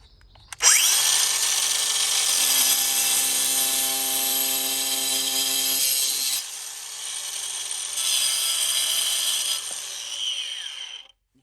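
A DeWalt FlexVolt DCG414T2 angle grinder spins up sharply and cuts into brick with a loud, high whine, the pitch sagging and recovering under load through several passes before cutting off, alone without speech.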